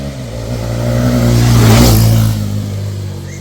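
A Hero XPulse 210 motorcycle with a 210cc engine revs close by, rising to a peak and then falling back in one short, loud burst.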